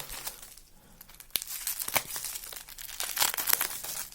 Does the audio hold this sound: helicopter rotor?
no